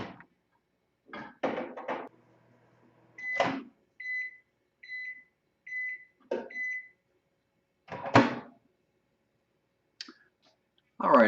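A microwave oven heats three-quarters of a cup of half and half, with door clicks and handling knocks, then a series of about five short, clear beeps, followed by a few more clunks.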